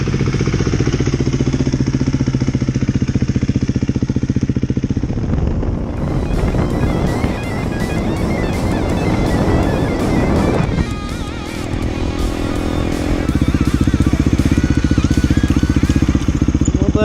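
A Husqvarna FE350 dirt bike's single-cylinder engine being ridden after throttle position sensor tuning on a cold day, loud and close, revving up through gears with a rising roar midway, dropping briefly, then pulling hard again, no talk.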